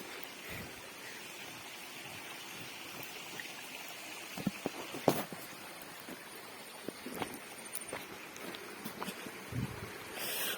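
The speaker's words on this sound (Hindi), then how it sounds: "बाकी भाई झरना ये है," A small forest waterfall rushes and flows with a soft, steady hiss, broken now and then by small splashes and clicks, heard from a little distance.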